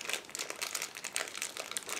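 A plastic bag holding rubber tires for a 1/24 Aoshima model car kit crinkles steadily up close, a dense rustling texture that runs continuously with no talking over it.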